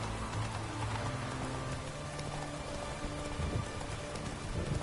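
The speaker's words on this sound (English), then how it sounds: "Witches have conjured rain." Steady conjured rain pours down in the Witcher 3: Wild Hunt video game, a dense even hiss of drops on surfaces with a low background hum, continuous and fairly close throughout.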